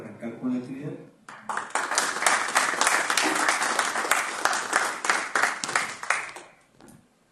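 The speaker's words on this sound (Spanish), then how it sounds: "Les pido un fuerte aplauso para arrancar con la actividad." Audience applause at a 2023 presentation of a Guatemalan culture magazine issue on María Zambrano. A brief voice opens the moment, then dense, loud clapping swells and holds for about six seconds before fading out.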